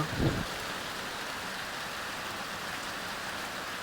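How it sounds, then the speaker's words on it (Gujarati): Heavy rain pours down in a steady, dense hiss of drops hitting surfaces, with a brief low rumble at the very start and no voices. "વરસાદ હમણાં ફૂલ શરૂ થઈ ગયો છે, તમે જોઈ શકો છો."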